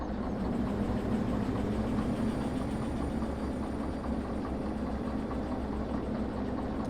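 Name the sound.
train engine starting up in Derail Valley video game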